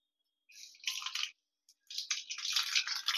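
A spoonful of mustard seeds hits hot oil for tempering dal, bursting into bright crackling sizzle in two bursts separated by a short lull, close and loud.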